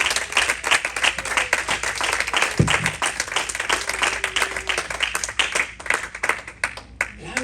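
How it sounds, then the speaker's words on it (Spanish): A church congregation applauds during a Sunday service, dense and sustained clapping from many hands filling the room, with a brief low thump partway through. "Vamos a extender ese aplauso un momentito"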